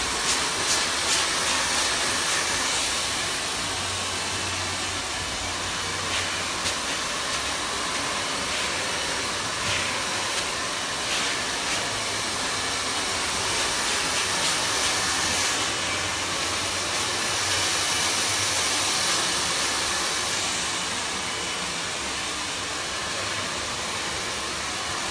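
A hair dryer blows continuously with its nozzle pointed down during a short women's haircut, a steady close whooshing hiss that barely changes for the full length.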